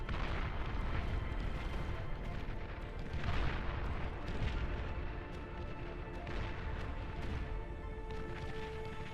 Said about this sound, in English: here's that Tsar firing away